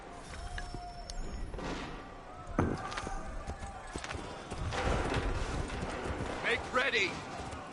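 Horse hooves clip-clop steadily through a chaotic battle scene in Assassin's Creed 3, with shouted commands, a neigh and background clamor layered over the hoofbeats across the whole stretch.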